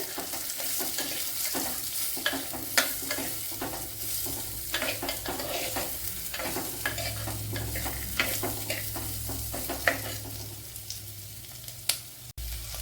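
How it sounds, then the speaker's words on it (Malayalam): Chopped medium onion sautéing in a pan for a dal rava dosa, a steady close sizzle with scraping stirring clicks throughout and no talk. "ഒരു മീഡിയം സൈസ് ചെറിയ സവാള ഇതുപോലെ കട്ട് ചെയ്ത് എടുത്തിട്ടുണ്ട് അത് ഇട്ട് കൊടുക്കുക ഇതിനെ ഒന്ന് വഴറ്റിയെടുക്കുക"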